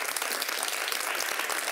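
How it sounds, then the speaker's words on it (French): Studio audience applauding at a French-language talk show, a dense steady wash of clapping hands throughout, fairly even in loudness with no voices over it. "On l'applaudit, s'il vous plaît."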